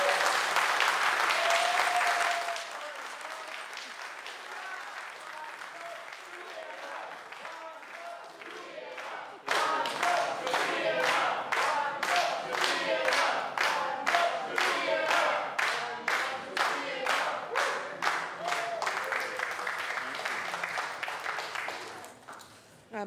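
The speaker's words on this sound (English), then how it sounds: "Feel free to clap away." Applause from the public gallery at a Boston City Council meeting, marking a docket being passed: a burst of clapping, a quieter stretch, then a long, loud, dense run of claps that fades toward the end.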